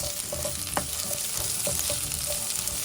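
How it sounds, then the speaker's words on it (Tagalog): Ginger, garlic and onion fry in a pan with a steady close sizzle, broken by a few scraping stirs of a utensil against the pan's surface. "Haluin lang din natin hanggang sa luambot yung ating sibuyas"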